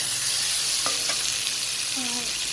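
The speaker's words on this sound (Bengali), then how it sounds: "আর এই মুখিটা একটু ভালো করে ভাজতে হবে, ভাজলেই সিদ্ধ হবে ভালো।" Taro (gati kochu) being stirred and fried in a pan, a loud continuous sizzle with a few scraping strokes of the spatula, no talk over it.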